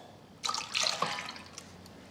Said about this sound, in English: pour our milk and cream into a pot